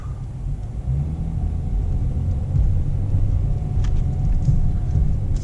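A 2017 Dodge Challenger SXT driving in sport mode, holding a gear: steady low engine rumble and road drone from inside the cabin, continuous and fairly loud with no speech.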